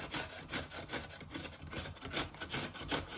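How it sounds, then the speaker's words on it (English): Continuous rhythmic rasping of food being rubbed up and down on a sharp kitchen grater, close and steady with regular strokes throughout, no voices. "you're going to get your grater and you just want to start grating it"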